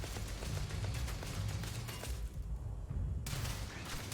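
Turret gunfire in the video game Starfield rattles out as a dense, continuous barrage of rapid shots, loud and close, with a brief lull near the end before it resumes, and no talking.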